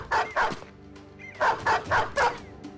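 A dog barks in the Battle Brothers video game, giving a close, sharp volley of five or six barks in two quick bursts with a brief gap between them.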